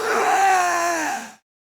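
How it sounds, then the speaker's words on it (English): A long, loud, wailing scream for a black dragon waking in an audiobook fantasy scene, a single drawn-out groaning cry that fades and cuts off into silence. "the black dragon let out a heartbreaking scream as it woke up"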